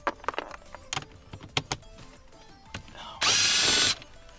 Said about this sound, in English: all we're going to do here, take out these two 7mm screws